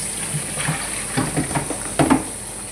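Water runs from a tap while saluyot (molokhia) leaves are rinsed for adobo, a close, soft gushing with small splashes and swishes as the leaves are handled.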